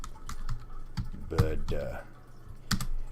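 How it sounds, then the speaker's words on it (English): Clicks of a computer keyboard being typed on in scattered bursts and single taps, close by, with a voice speaking briefly in between. "We're typing in lambda."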